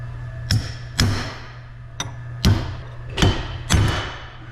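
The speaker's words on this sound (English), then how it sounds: "you may need to go back and hit your bearing a little bit more to expose some more threads" Six heavy, ringing hammer blows drive a punch against a track loader final drive bearing, struck at uneven intervals over a steady low hum, each hit sharp and close.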